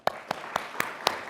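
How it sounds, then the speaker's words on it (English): An audience applauds students walking up to a stage at a panel event, heard as five sharp, evenly spaced claps, fairly faint, with no voices. "give them a huge round of applause as they come up to the stage"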